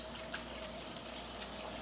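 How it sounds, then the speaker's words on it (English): Hot water from a kitchen tap runs steadily onto cooked pasta in a colander, a constant close rushing splash with no talking. "So I'm just gonna run a little bit of water on this."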